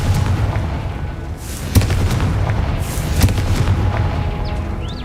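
A Confringo fire spell bursts in Hogwarts Legacy, a game blast heard as a couple of sharp booming hits over a dense, steady rumble of in-game noise, with a thin whistling streak near the end.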